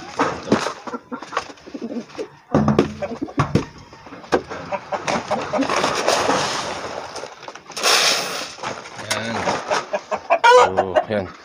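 Chickens and roosters cluck and call on a small farm, with close, busy layered clucking, some cooing-like notes and a crowing burst near the middle, while a person talks intermittently over the flock.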